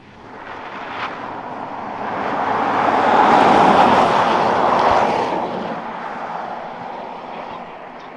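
A Lotus Eletre electric SUV accelerates hard and sweeps past, a broad whooshing roar swelling to a peak mid-way and then fading as it moves away, with no talk.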